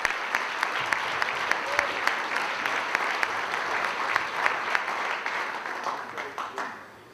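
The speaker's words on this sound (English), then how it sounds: "Yes, give them a round of applause." Sustained audience applause at an award ceremony, dense steady clapping from a crowd that holds for several seconds before tapering off at the end.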